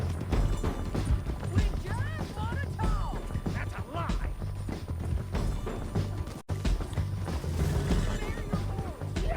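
A horse gallops in the Red Dead Redemption 2 video game, with steady hoofbeats, whinnies and game action sounds under a person talking.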